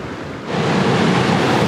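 River water flowing at the Meeting of the Waters in the dry season, a broad steady rush that swells after a brief quieter start and then holds loud and continuous, with no voices.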